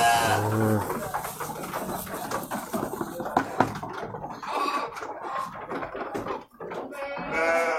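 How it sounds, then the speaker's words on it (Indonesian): Sheep in a pen on fermented feed, a flock of fattened ewes with lambs, bleating in several overlapping calls amid steady chewing and pen noise, fairly close, with a voice talking over parts of it. "Dombanya lahap sekali makannya teman-teman."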